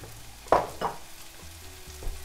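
Chopped onions fry in hot oil in a pan on high heat, a low steady sizzle broken by two sharper scraping bursts as they are shaken around, then quieter frying.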